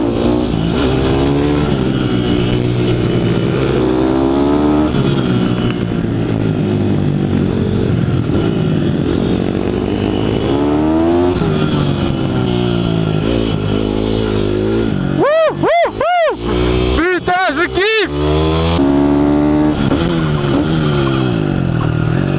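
Four supermoto motorcycles riding together, engines droning loudly and continuously up close, with repeated revving surges and shifting pitch as they accelerate, plus a few sharp throttle blips near the end.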